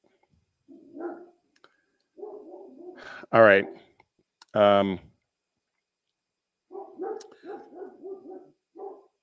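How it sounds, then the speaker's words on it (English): Pet dogs at home bark excitedly at a delivery, with two loud, close barks in quick succession. Someone speaks before and after the barking. "I don't know if you can hear that. My dogs are going nuts."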